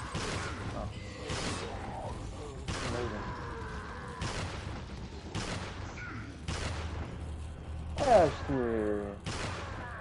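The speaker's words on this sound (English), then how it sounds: "Let's see what the hand cannon does to him." Hand cannon gunfire in Resident Evil 4 cracks out as loud, evenly spaced blasts, about seven over ten seconds, each with a sharp broadband burst, mixed with game effects and a voice talking between shots.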